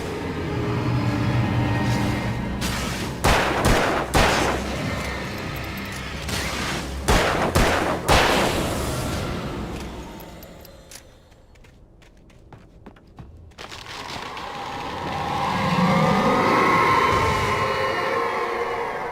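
Several loud gunshots ring out in quick succession in the game Alan Wake, then a lull with faint rumbling before a swelling, noisy roar returns.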